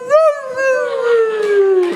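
A person mimics a husky's howl, a single drawn-out wavering tone that rises briefly then slowly falls, close and fairly loud.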